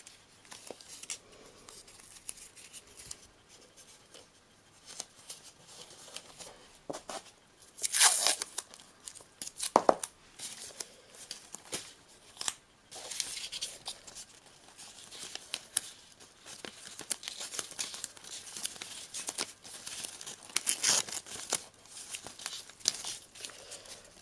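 Adhesive tape being pulled and torn off the roll while assembling a pair of paper or craft glasses, a few sharp crinkly rips standing out over quiet handling noise, close to the microphone.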